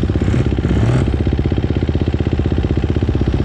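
A single-cylinder enduro motorcycle engine putters and idles nearby, its rapid regular firing pulses steady, with a brief rev at the start.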